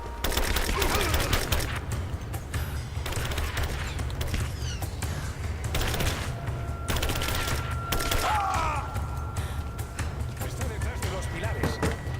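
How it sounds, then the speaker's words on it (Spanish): Gunfire from Rise of the Tomb Raider crackles in rapid bursts over continuous game ambience, with voices talking throughout. "¡Disparan!"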